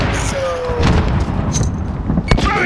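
Booming gunshots and blasts ring out in Call of Duty Modern Warfare gameplay, several sharp reports scattered across the moment, loud and close, with in-game voices calling out between them.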